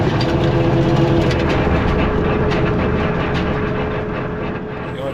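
Tractor engine running steadily with a sustained whine while working a food plot, a loud, continuous rumbling drone with a steady tonal hum throughout.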